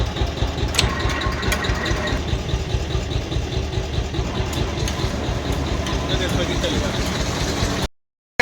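A tractor engine runs steadily with a low, pulsing idle while a water tanker fills, a constant mechanical rumble close by that cuts off abruptly near the end.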